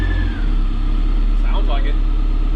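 A 1991 Toyota MR2 AW20's engine running while in reverse gear, a loud, close, steady low idle hum throughout with a brief dip early on; a voice talks over it midway.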